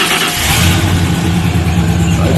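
A truck with about 251,000 miles, a cracked right exhaust manifold and a leaking transmission line, heard as a steady, loud, close engine running on a low rumble, with no separate cranking burst to mark the start.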